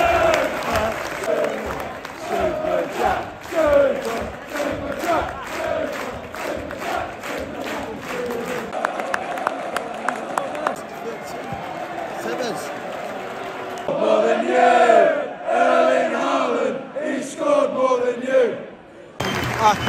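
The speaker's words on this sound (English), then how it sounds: "Nice to see the Bournemouth fans clapping him off, though." Bournemouth fans applauding inside a football stadium as a former player goes off during a Manchester City match, steady crowd clapping and murmur with a louder swell near the end.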